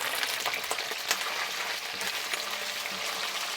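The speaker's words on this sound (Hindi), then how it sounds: "अब ये बाकी भी जो है ना इसमें हमने डाल के फ्राई करनी है।" Okra sizzles in hot oil on a high flame while pickle is being made, a busy crackling fry with scattered pops and a few soft stirring clicks, close and continuous with no voices.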